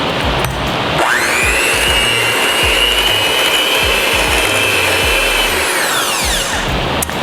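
Hand mixer whirring steadily through cream cheese and butter for orange cake frosting, a loud continuous motor whine rising in pitch as it starts, holding for several seconds, then winding down; no talking.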